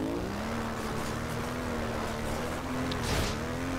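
A vehicle engine drones steadily while driving in the video game Planetside 2, a continuous hum that rises slightly in pitch toward the end, with faint clatter mixed in.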